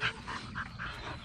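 A dog whimpers in a few short, high-pitched whines, close by, with faint background noise.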